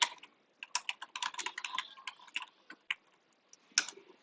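Fingers type a sudo command in a terminal on a Mac keyboard, producing close, quick bursts of crisp key clicks with short pauses between runs, alone in a quiet room.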